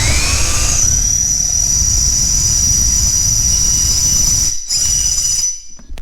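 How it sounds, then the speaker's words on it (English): Drill with a blunt bit boring a bolt hole in a garage workshop, a loud continuous high-pitched whine over rough grinding rumble, with brief dropouts before stopping. "that drill bit's blunt, so let's find another one."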